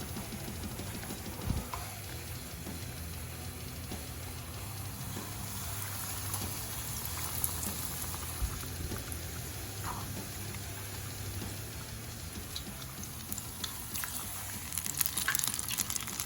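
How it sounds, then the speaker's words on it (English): Battered apple pieces fry in hot oil in a cast iron pan, a steady crackling hiss with scattered pops running the whole time, fairly soft and close, with no talking over it. "Continue to let these fry for 2 minutes on that side"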